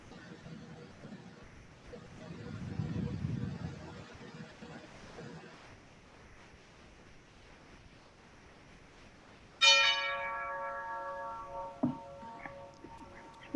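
A single doorbell chime rings out clearly over quiet room noise, its tone ringing and slowly fading, with a faint second tone shortly after.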